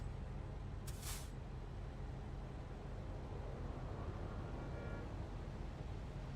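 A sharp hiss of air brakes bursts briefly from an electric truck in American Truck Simulator, a short release standing out over a steady engine drone with no talking.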